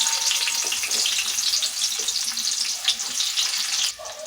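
Chopped onions dropped into hot oil already holding mustard and cumin seeds, frying with a steady loud sizzle and crackle that fades slightly near the end.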